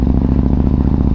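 Yamaha MT-01 motorcycle engine running on a ride through Cheddar Gorge, a loud close low rumbling throb with steady rapid pulsing, heard alone for about a second.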